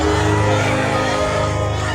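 Students at an Aryans Group of Colleges concert shout and cheer as a dense, continuous crowd roar with music underneath, loud and steady throughout.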